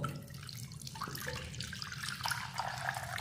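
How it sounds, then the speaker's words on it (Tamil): Water is poured steadily into a clay pot holding milk, a continuous close liquid splashing and trickling with no talk. "இப்போ இதில் வந்து தண்ணி நல்லா ஊற்றிக்கிடுவோம்"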